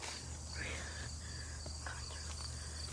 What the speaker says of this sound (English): Oh, there's the cicada on the spider web.